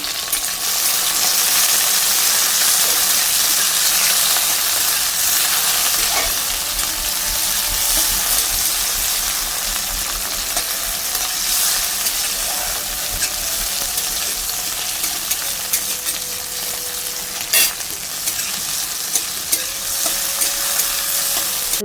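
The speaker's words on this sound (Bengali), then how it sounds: "দিয়ে দিলাম ডাল ফোড়ন, নর্মাল জিরে কাঁচা লঙ্কা আর তোমার টমেটো দিলাম।" Oil sizzles and crackles loudly and continuously in a pan as cumin, green chillies and tomato fry for dal, with occasional clinks of a utensil stirring.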